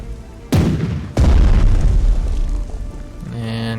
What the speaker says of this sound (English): Let's attack the artillery.